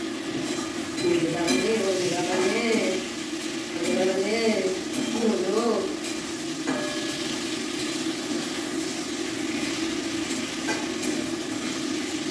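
Flat beans fry in a pan, making a continuous sizzle with light stirring clinks, while someone talks over it in the first half; later the sizzling carries on alone.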